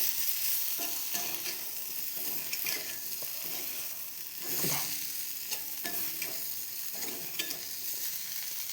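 A spoon stirs fried elephant foot yam pieces in a hot pan for a chena roast. Oil hisses and sizzles steadily, with repeated scraping and clacking strokes at close range.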